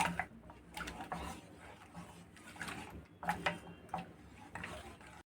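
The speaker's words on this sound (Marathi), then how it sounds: "ढवळून घ्यायचे आपण मिक्स करून सगळे." A spoon stirs a wheat halwa mixture in a pan, scraping and clinking softly in irregular bursts of short knocks, close and quiet.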